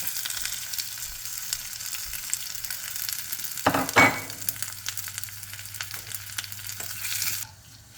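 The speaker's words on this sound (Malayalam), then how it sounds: "ഇത് ഉള്ളി എല്ലാം കൂടെ മൂത്ത് കിട്ടി." Onion, curry leaves and dried red chillies fry in hot oil with popped mustard seeds for a tomato chutney tempering. A steady close sizzle runs throughout, with a louder stirring clatter midway, and it cuts off abruptly near the end.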